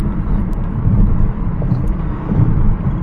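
A 2014 Chevy Impala rolls over road bumps, heard from inside as a steady low road rumble with a few soft thumps, loud and close, with no talking.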